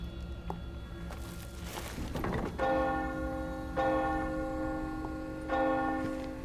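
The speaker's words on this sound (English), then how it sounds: "Rings the bell like normal" Bell tolling in a Resident Evil video game, several resonant strikes with long ringing sustain, each new chime rising over the fading tail of the last, against low mechanical ambience.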